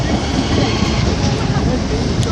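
A Northern Rail train, the 11:17 service, pulls out of Manchester Airport station with a loud, steady rumble of wheels and engine noise filling the platform.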